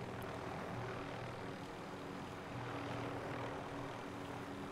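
A constant, fairly distant engine drone from a helicopter in Call of Duty: Modern Warfare, steady throughout without talk.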